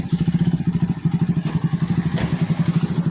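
A Suzuki Raider motorcycle engine runs close by with a fast, steady, throbbing exhaust pulse, loud and continuous for the whole stretch with no talking.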